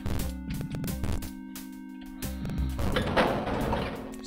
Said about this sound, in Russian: Дверь закрылась.